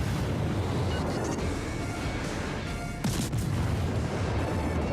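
Akizuki destroyer guns firing in World of Warships, booming salvos over a constant rumbling sea and engine bed, with a sharp loud blast near the middle followed by further heavy reports.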